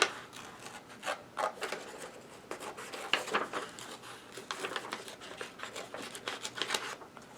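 Scissors snip through paper while a five-pointed paper star is cut out for a star wreath craft: a steady run of close, crisp cutting strokes and paper rustles, no voices.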